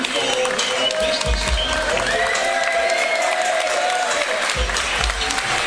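A wrestling crowd at a live 3CW Hysteria event applauds and cheers steadily throughout, a dense wall of clapping with a commentator talking over it.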